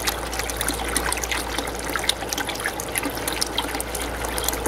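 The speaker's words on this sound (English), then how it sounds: "See the nice flow of water coming out of there?" Water pours steadily from a gold-mining classifier-screen recycler tank into a bucket, a close, continuous trickling splash with no voices.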